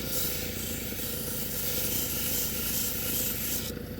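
Velvet obsidian stone pressed against a 140 grit grinding wheel, giving a steady, close abrasive rasp with a continuous motor drone underneath, unbroken for the whole stretch.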